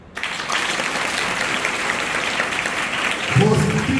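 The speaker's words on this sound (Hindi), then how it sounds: "अच्छा लगा तो ताली बजाओ।" Sustained applause from an audience at a school event, steady and close for about three seconds, with a voice starting to speak over it near the end.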